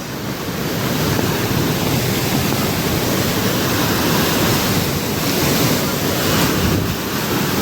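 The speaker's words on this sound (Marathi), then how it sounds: "तर मित्रांनो आता तुम्हाला एक धबधबा दाखवतो" A loud, constant roar of a waterfall in the rain fills the scene, broad and unbroken, with some wind buffeting the microphone.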